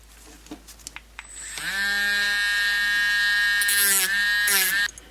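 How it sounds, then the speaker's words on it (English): A small drum sander grinding rivets off a Matchbox Ford Heavy Wreck toy truck, a few small taps and then a loud, steady high-pitched whine lasting about three seconds before stopping abruptly. "we just got a little drum sander, and we're going to just grind these off"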